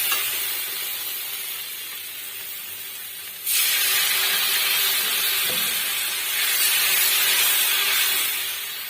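Spice paste sizzles in hot oil in a pan, then water poured in for gravy sets off a sudden loud hiss and spatter that builds and continues steadily to the end, close, with no voices.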